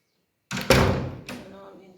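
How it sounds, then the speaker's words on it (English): A back door of a house in Tanzania opens with a sharp knock-like thud and a rattling swing, then shuts with a second solid thump that trails off. Nobody talks over it. "I just went through the back door."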